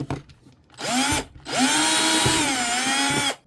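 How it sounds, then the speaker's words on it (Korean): An electric drill widens a hole in plastic, two whining bursts close to the microphone, a short one then a longer sustained run, its pitch dipping under load. "플라스틱이라 굉장히 간단하게 작업이 가능합니다 구멍을 좀 넓혀 줄게요"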